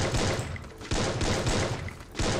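Rapid gunfire bursts in a competitive shooter match, with loud automatic rifle fire in repeated volleys separated by brief pauses, close and harsh.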